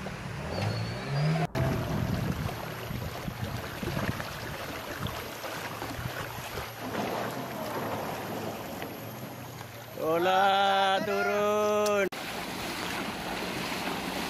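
Loud river rapids churn around a boat heading upstream in Taman Negara, under gusty wind noise, with a brief burst of tonal sound near the end.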